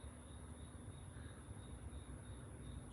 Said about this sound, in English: You can hear the crickets and everything.